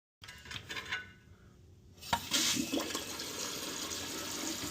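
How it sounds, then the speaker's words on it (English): Water rinsing down a Toto toilet bowl, a close rushing, splashing flow that starts after a brief clatter and continues steadily to the end. "Now we're gonna rinse down the toilet here."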